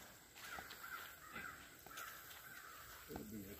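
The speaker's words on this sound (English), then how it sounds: "I keep hearing crows" Crows caw in scattered calls in a wooded state park, moderately distant against a steady insect-like hiss and faint background, with no talking.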